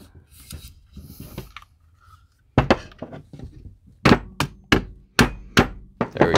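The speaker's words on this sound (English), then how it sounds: "Using the handle of the hammer there." Sharp wooden taps from a hammer handle seating a handguard onto a Scorpion firearm strike in a quick, uneven series, close and loud, after some quieter handling clicks and rustles at the start.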